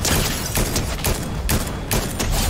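Rapid bursts of Fortnite gunfire crackle across a busy battle-royale match, several volleys coming in quick succession with brief gaps, loud and dense throughout.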